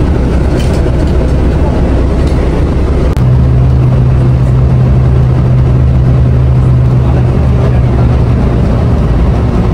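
A small airport shuttle bus with its engine running, heard from inside as a loud, constant rumble and road noise, with a low steady drone emerging midway and continuing.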